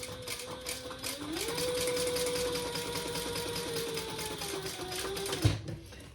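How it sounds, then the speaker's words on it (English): A sewing machine stitches a cork wallet card slot in one steady run of about four seconds, a rapid even whir at close range that stops with a soft clunk, no talking. "And then we're going to sew just below that first card slot."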